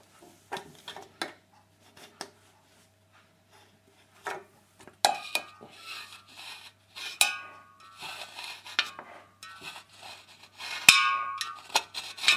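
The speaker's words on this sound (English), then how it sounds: "if you use the knife just to pierce the can, and I'll show you that now" Knife blade scraping and piercing a metal drink can to make a meths alcohol stove, with sporadic rubbing scrapes and sharp metallic clicks that grow busier and louder, up close, with no talking.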